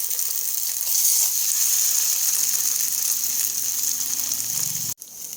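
Two burger steak patties fry in a pan with a steady, close hiss and crackle of oil that holds evenly for about five seconds before cutting off abruptly.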